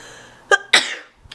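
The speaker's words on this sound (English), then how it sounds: "I have to sneeze." A woman sneezes once, sharply and close by, with a short gasping breath just before it and a faint sound after.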